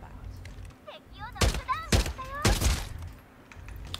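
Bursts of gunfire in the video game Farlight 84 ring out in several loud, close volleys with whizzing tonal effects between them, while a voice talks over the action.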